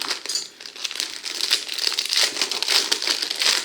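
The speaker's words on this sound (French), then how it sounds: "c'est du papier qui fait du bruit" Close, steady crinkling and rustling of paper being handled, a continuous crackly texture with brief pauses.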